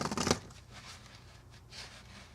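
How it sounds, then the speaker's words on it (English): A deck of playing cards is riffle shuffled, giving a short, crisp burst of flicking cards up close, followed by quiet handling noise. "A good riffle shuffle."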